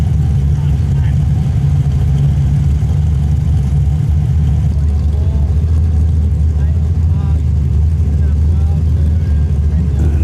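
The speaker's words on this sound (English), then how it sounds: "Next 3 Toranas coming in look like they're all pro street versions. They all sound pretty mean and high horsepower cars" Holden Torana pro street cars arrive at Toranafest 2024 with loud high-horsepower engines rumbling steadily and continuously nearby, a deep throaty drone throughout.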